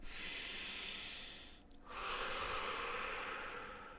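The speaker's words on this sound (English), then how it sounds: "Take a deep breath in, deep breath out." A person slowly breathes in deeply and then breathes out during a guided relaxation. The long, airy rush of breath is close and quiet, with a short pause between the inhale and exhale and no speech.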